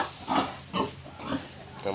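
A large F1 mother sow, around 200 kilos, grunts in a pen, with three or four low close grunts in a loose rhythm while a person speaks over them.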